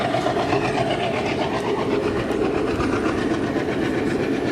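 Tungabhadra Express passenger train running on rails through a curve near a railway gate between Secunderabad and Kurnool, with a steady loud rumble and rhythmic clickety-clack of wagons close by, no voices.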